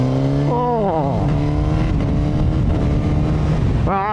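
A Suzuki GSX-S1000 naked bike's inline-four engine revs up and down in smooth, rising and falling sweeps, loud and close over constant wind rush.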